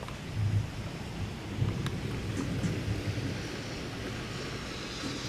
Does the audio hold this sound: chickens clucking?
no